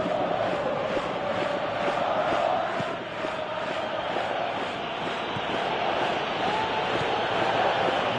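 A stadium crowd in the PES 2018 football video game keeps up a steady, loud roar and chant throughout, dipping briefly midway.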